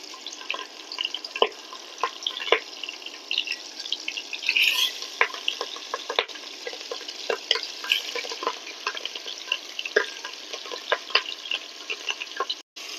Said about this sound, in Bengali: সব মাছগুলো আমি এভাবে বাদামি করে ভেজে নিলাম